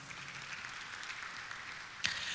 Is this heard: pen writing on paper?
no